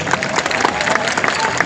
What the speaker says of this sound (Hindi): आपने माँ के नाम पर ताली बजाई